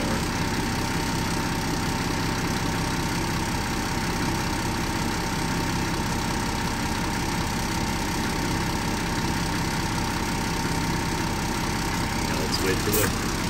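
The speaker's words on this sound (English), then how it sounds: "Now let's wait for the compressor to build back up." A Unimog 416's onboard air compressor running steadily to rebuild pressure after filling a tire, a continuous mid-level engine drone with a faint voice underneath.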